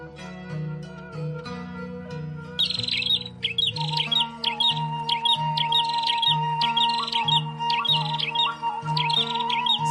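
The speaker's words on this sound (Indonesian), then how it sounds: "burung-burung perenjak dan jalak berkicau riang" Prinias and starlings chirp in a busy, bright chorus of rapid repeated calls, loud and close, layered over a steady sustained musical tone in the background.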